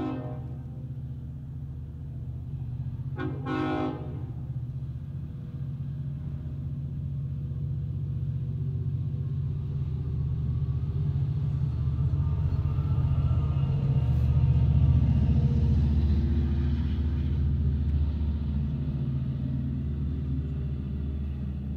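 A six-car Long Island Rail Road train passes nearby with a steady low rumble and roar that swells to a peak mid-pass and then slowly eases, with no talk over it.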